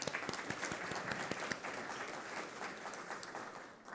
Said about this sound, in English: say hello to them real quick with a round of applause